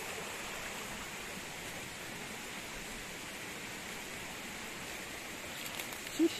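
Steady broadband rush of a river flowing along a riverside outing path, continuous and moderately distant with no talk over it.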